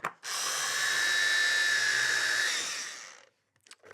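A food processor finely minces crushed garlic for a mushroom curry, running as a steady, loud whirring motor whine for about three seconds before stopping abruptly, close and alone.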